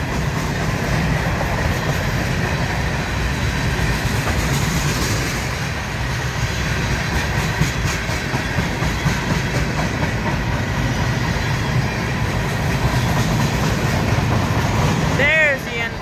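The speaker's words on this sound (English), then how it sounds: "This is the longest train I've ever seen in my life." Very long freight train rolling past near Wartrace, Tennessee, a steady loud rumble with wheel clatter filling the whole stretch, close by and unbroken.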